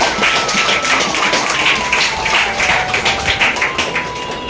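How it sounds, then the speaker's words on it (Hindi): A room of seminar attendees claps steadily for a participant at a training session on sales invitations, a continuous loud rattle of many hands with a faint tone running underneath. "ताली बजा जरा इनके लिए"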